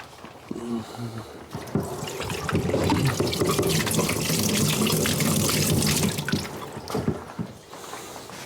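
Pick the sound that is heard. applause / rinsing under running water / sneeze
rinsing under running water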